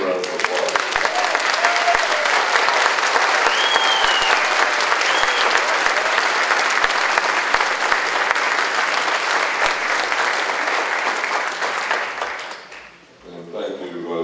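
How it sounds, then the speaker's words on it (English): Sustained, dense applause from a large audience at a myositis patient association's annual meeting, loud and steady for about twelve seconds before fading out abruptly near the end. "give them a round of applause"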